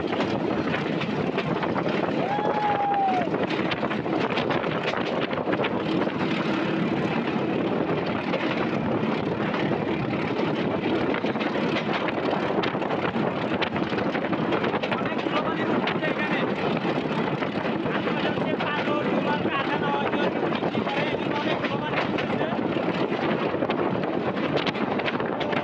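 Strong wind roars steadily past the outside of a moving train between Dhaka and Narayanganj, a loud broadband rush that continues without a break for the whole stretch.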